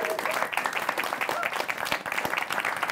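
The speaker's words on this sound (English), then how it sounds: "Round of applause for Corinne." Enthusiastic audience applause, a dense crackle of many hands clapping steadily, with some voices and cheers mixed in.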